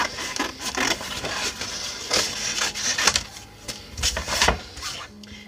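A paper trimmer slices through card stock in a rough, scraping pass, with several close, loud strokes of rasping friction in short bursts.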